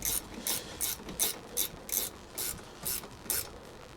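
A ratchet clicks in quick, regular strokes, about nine in a row, while tightening a bolt on the front brake of a 2016 Ford Mustang during a pad and rotor replacement. The sound is close and clear, with no talking.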